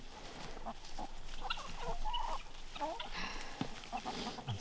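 Pasture-raised hens clucking on a farm in freezing weather, with a frozen water supply; soft, scattered clucks and murmurs come from several birds nearby, fairly quiet, with no talking.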